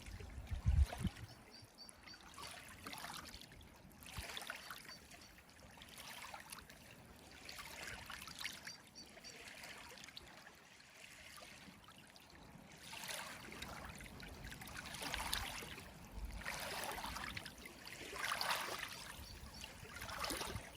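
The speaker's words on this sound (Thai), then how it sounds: "เสียงคลื่นเห็นไหม" Sea waves wash repeatedly onto a shore in fine weather, each swell rising and falling in a slow, steady rhythm of close, moderately loud surf with no voices.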